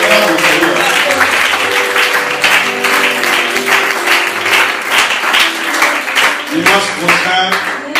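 A church congregation applauds to acclaim the Lord, giving steady, dense clapping that runs loud and unbroken throughout, with a musical tone and some voices underneath.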